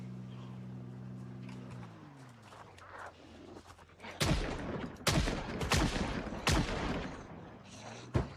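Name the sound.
gunshots in video game Project Zomboid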